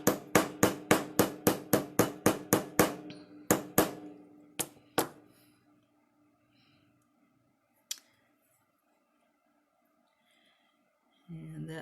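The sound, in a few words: hammering rivets into leather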